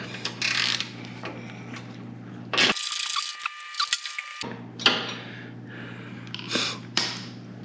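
Ratchet wrench with a 5/16 socket clicking on a bolt of a 2022 Craftsman T2400 lawn tractor, close and moderately loud, bursts of rapid pawl clicks separated by a brief pause, no talking.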